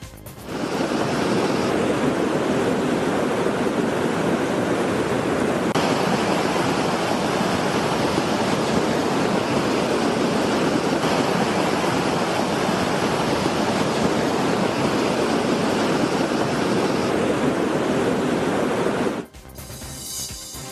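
Floodwater rushing between houses during a heavy storm in Spain, a dense, continuous roar of flowing water heard close and loud for nearly the whole stretch before cutting off abruptly.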